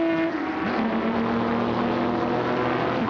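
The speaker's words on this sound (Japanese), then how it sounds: "ヘアピンカーブを回る20番の日産 R381。" A Nissan R381 race car, number 20, rounds a hairpin curve on a wet circuit. Its engine gives a continuous broad drone that holds steady throughout, with a faint pitch change early on. No talk is heard.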